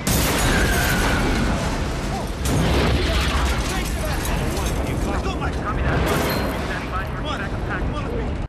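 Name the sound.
explosion disrupting a convoy in a movie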